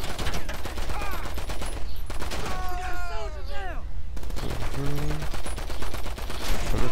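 Gunfire in GTA 5 Online crackles in dense, rapid bursts from near by, with overlapping automatic fire and a few brief tonal game sounds mixed in, under scattered talk.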